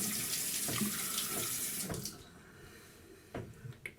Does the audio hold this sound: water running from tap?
yes